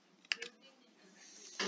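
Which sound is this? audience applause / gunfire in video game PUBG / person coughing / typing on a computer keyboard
typing on a computer keyboard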